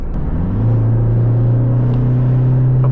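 A Toyota Fortuner 4x2 SUV in sport mode accelerates under light throttle, heard as a loud, steady engine drone from inside the cabin that rises in pitch and holds, a continuous low rumble with no speech.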